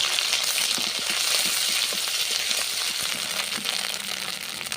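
Onion paste sizzling in hot oil with bay leaves, cardamom and cinnamon in a village kitchen, a steady close crackle and hiss running continuously without any voices.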